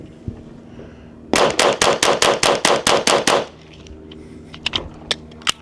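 A SIG Sauer P322 .22 pistol firing CCI competition ammunition: a rapid string of about ten sharp, evenly spaced shots, then a few scattered clicks and taps.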